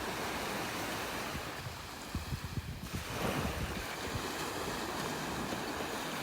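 Surf washing onto a beach in North Naples, Florida, a steady broadband wash with wind buffeting the microphone and a swell of surging water midway through.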